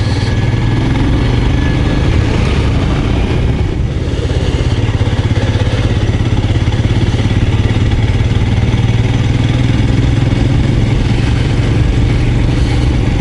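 A loud, close small vineyard tractor engine rumbles steadily with a rough, clattering drone, holding an even pitch for the whole stretch with no talking.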